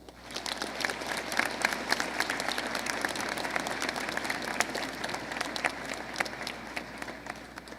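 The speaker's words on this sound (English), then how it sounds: "Please give these guests a round of applause." Audience at a Veterans Day high school assembly applauding steadily throughout, a dense wash of many hands clapping in a large room, with no break and no voices standing out.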